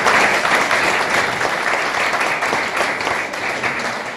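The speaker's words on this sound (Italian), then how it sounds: "facciamogli un applauso" Audience applause at a political list presentation in Decollatura, a dense, steady wash of many hands clapping that carries on loud throughout and eases slightly toward the end.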